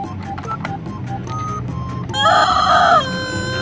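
A toy rooster in a children's rooster-crowing game lets out a loud, shrill electronic crow lasting about a second, rising over a background of clicking and rattling play noises.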